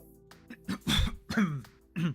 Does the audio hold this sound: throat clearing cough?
yes